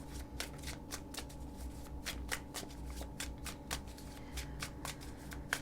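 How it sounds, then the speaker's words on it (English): Tarot cards being shuffled by hand, a steady run of crisp riffling flutters and soft slaps up close, repeating in quick bursts with no talking. "I'm gonna pull one card for each and the answer will be clear."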